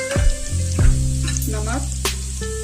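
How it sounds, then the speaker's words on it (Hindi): Garlic frying in oil for shahi chicken qorma, a loud close sizzle with a few clanks and scrapes of a utensil against the pan. "लहसुन हमारा फ्राई हो गया है।"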